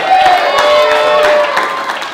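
A live comedy-show audience applauds and cheers, a dense, loud wash of clapping and crowd noise held steady throughout, with voices mixed in.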